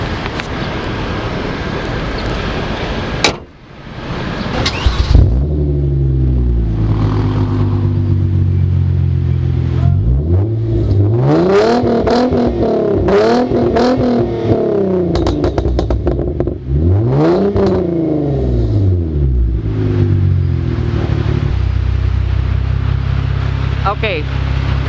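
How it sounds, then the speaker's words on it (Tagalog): A 2015 Hyundai Genesis Coupe with a 3.8L V6 starts up, then its exhaust is revved repeatedly, rising and falling in loud swells that stop short of high pitch, with some talk mixed in. "I'll let you hear the exhaust."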